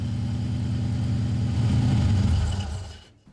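A turbocharged 3.9 litre Rover V8 in an Austin K2 WWII ambulance runs loud and steady with a deep low rumble, swelling slightly before cutting off abruptly near the end.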